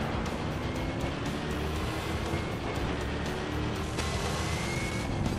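A rally car engine in the Gravel racing game drones steadily at high revs, a continuous broad roar with faint tire and gravel noise, heard from an outside camera view.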